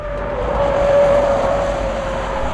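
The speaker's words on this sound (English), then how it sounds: "I'm driving on the Pirelli Cinturato P7 All-Season Plus" A car rolls along on Pirelli Cinturato P7 All-Season Plus tires, giving a steady, fairly loud road and engine hum with a faint tonal whine, heard from inside with no voices.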